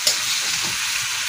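Shrimp sizzles loudly in a pan while being stirred, a dense continuous hiss of frying up close with faint scraping underneath.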